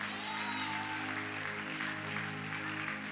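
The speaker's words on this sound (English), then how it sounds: "Clap for Jesus." A church congregation clapping at a Sunday service, a steady wash of applause filling the room with sustained organ-like tones held underneath throughout.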